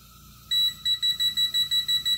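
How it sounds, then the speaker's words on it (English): A gas leak detector's high electronic alarm beeps in a steady, rapid rhythm on sensing gas, about eight short pulses after a brief hiss, loud and close. "it beeps at you and lets you know that it can smell the gas"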